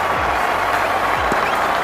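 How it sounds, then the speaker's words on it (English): A cricket stadium crowd applauds a century in a 2006 India versus Pakistan one-day international, a dense, continuous wash of clapping and crowd noise filling the short moment. "a knowledgeable audience will applaud his effort, as will his players' gallery"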